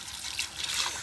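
Tap water trickles steadily while someone washes their face, a close, soft splashing stream with brief gushes.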